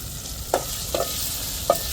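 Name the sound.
tomatoes sautéing in a covered pan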